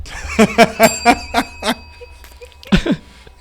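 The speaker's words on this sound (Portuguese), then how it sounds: "Eu adorei essa campainha" A bell rings in a quick series of about six bright, ringing strikes with lingering overtones, then falls quiet before a final double ring near the end; nearby and fairly loud, with no speech over it.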